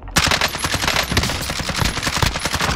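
Automatic gunfire in Call of Duty: Modern Warfare, rapid loud bursts of shots crackling close by in an uneven rhythm for a few seconds.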